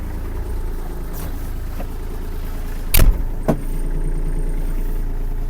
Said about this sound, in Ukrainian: Кардан працює. Ножі працюють. Гарна тиха робота.